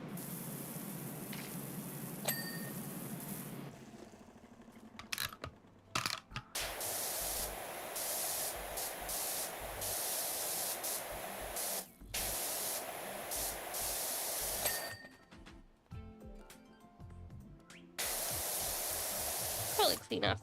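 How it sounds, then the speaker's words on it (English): A surface cleaner sprays in the video game PowerWash Simulator 2, giving a loud, sustained hiss that cuts out and restarts several times in long bursts with brief gaps of quieter sound between them. "My favorite thing in the world, my surface cleaner."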